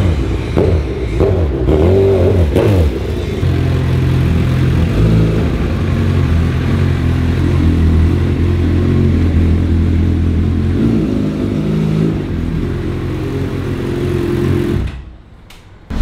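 A Honda CB 1000 motorcycle engine runs close by with a deep, throbbing idle, rising in a rev early on and then holding a steady rumble before cutting off abruptly near the end.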